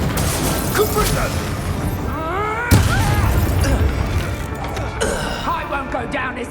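Confringo blasting spell in Hogwarts Legacy, a sharp explosive burst near the middle amid ongoing combat noise, with shouting voices and other crashes around it.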